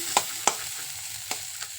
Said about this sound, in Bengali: সব সবজি একটু ভাজা ভাজা করে নিচ্ছি